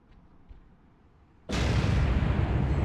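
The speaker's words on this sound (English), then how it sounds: "Explosion." A sudden loud explosion bursts in the Spider-Man 2 video game on PS2, following a quiet stretch and then sustaining a dense, roaring blast of debris and rumble.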